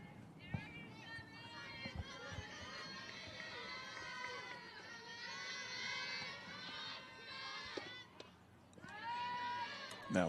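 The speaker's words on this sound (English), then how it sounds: "Kind of heard a little bit of the crowd go, ah!" A crowd at an outdoor high school softball game lets out a drawn-out collective groan over a foul ball, mixing with scattered voices and shouts around the field.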